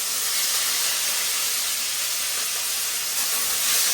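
Poa fish frying in a pan, a loud continuous bright hiss and sizzle that holds steady throughout, heard close with no talk.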